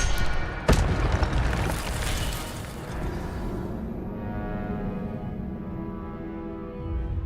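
Incendio fire spell blast in the video game Hogwarts Legacy: a sharp booming burst followed by a rumbling, fading roar of flame that lingers for several seconds.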